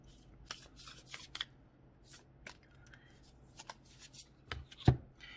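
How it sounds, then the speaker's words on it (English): Cards from a Flower of Life oracle deck being handled and pulled, soft close riffling and shuffling rustles in short bursts with a sharper tap near the end. "I'm going to pull one more Flower of Life card here."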